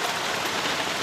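Heavy rain pours down steadily during a thunderstorm in Jharsuguda district, a dense, continuous hiss of drops close by with no break or voices.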